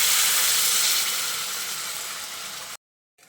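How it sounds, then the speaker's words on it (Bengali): Water poured into a pan of spiced potatoes and cauliflower brings a loud, bright burst of sizzling and hissing that eases off gradually before cutting out abruptly. "এখানে আমি 1 কাপ মতো জল দিয়ে দিলাম"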